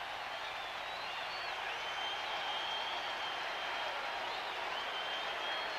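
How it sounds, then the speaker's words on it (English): Stadium crowd at a 1987 NFL game between the Los Angeles Raiders and Minnesota Vikings roaring after an interception by Carl Lee, a loud, sustained, even wash of cheering with no breaks. "Hilger brings this crowd to life as he lands one right in the hands of Carl Lee"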